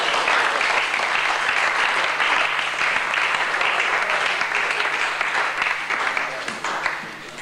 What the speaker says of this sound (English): And spontaneous applause for the Prime Minister as he left.